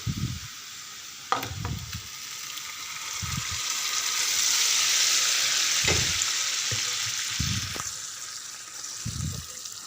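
Cooked lentils tipped into a hot tempering of spices, turmeric and asafoetida, giving a soft continuous sizzle and hiss with scattered low knocks and scrapes of stirring in the pan.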